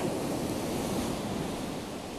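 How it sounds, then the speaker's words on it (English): Storm surf rolling onto a beach, a continuous wash of breaking waves with wind buffeting the microphone, steady and fairly distant with no talk. "Waves are getting bigger and getting closer"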